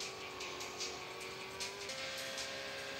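Motorbike engines whine steadily through a race in the video game Real Bike Racing, with a continuous high-pitched racing drone and brief bursts of noise. The level is fairly quiet and no one speaks.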